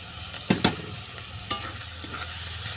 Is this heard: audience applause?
no